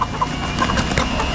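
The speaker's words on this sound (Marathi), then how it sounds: "पाट्यांमध्ये गावरान कोंबड्या आहे" Country chickens held in a basket, clucking in short bursts, close by, over a steady busy background.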